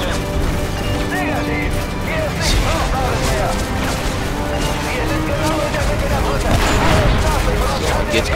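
Call of Duty (Modern Warfare 3) battle audio: dense, continuous rapid gunfire mixed with explosions and heavy impacts, loud and relentless, with a German-speaking voice talking over it.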